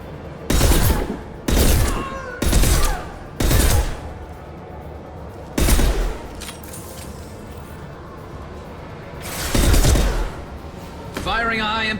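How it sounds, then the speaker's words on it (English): High impact gunshots in Mass Effect 2 Legendary Edition, a series of loud, sharp blasts spaced irregularly, about seven shots with short pauses between, the last followed by a brief electronic whine. "Firing a high impact shot."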